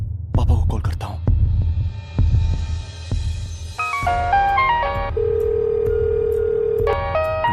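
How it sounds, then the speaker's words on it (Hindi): A telephone rings in repeated electronic tone bursts, with a steady held tone between, over a low throbbing background. "विकी का फोन है।"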